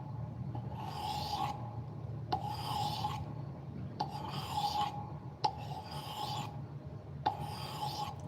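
A blade is sharpened on an 8000-grit whetstone in five steady rasping strokes, each about a second long with short pauses between, close and quiet.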